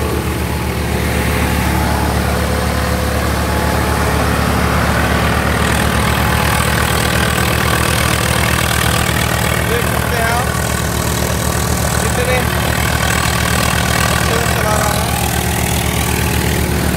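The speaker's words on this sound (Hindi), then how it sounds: "ट्रैक्टर बिल्कुल नॉर्मल चल रहा है" Swaraj 855FE 4x2 55 hp tractor diesel engine running steadily near 1600 RPM with no load, a loud continuous low hum with a constant throbbing tone, close by and unbroken for the whole stretch, with someone talking over it.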